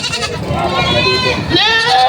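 Goats at a farm where goats are sold, loud wavering bleats repeating close by, one long cry followed by another near the end, with overlapping voices and background chatter.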